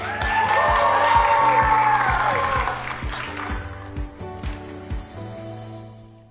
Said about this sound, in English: I want to give a giant applause for Be the Change Youth Coalition.